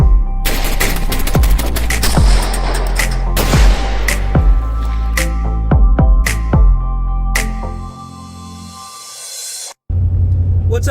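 Rapid gunfire crashes out loud and close, a dense run of heavy booming shots over a low rumble that thins to a few final reports before the sound cuts off.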